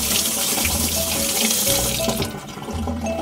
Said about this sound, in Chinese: 第一步呢，首先就是要把西红柿给洗干净